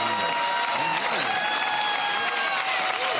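A large audience claps steadily for a few seconds, dense and even applause with a light crowd murmur underneath.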